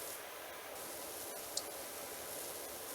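A pressure washer sprays in PowerWash Simulator while cleaning a disaster-struck house: a steady, close, hissing rush of water runs throughout, with one brief sharp tick partway through and no talking.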